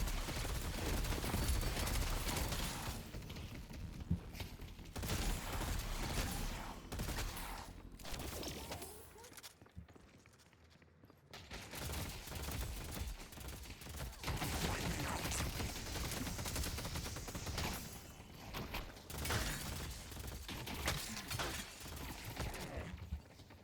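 Burst-rifle gunfire in the Deadlock video game, repeated short volleys crackling over about twenty seconds amid game clutter, with one brief lull near the middle.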